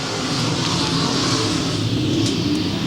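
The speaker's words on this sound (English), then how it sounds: "On the go pedal, we are green flag racing." IMCA race cars roaring around the I-35 Speedway oval under green flag racing, a steady loud wash of engine noise with no clear individual passes and no talk.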